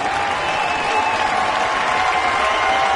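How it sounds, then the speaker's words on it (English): Steady, dense applause from a baseball stadium crowd welcoming a catcher's first big league at bat, a continuous wash of clapping at a constant loud level with no talk. "The crowd giving him a nice round of applause"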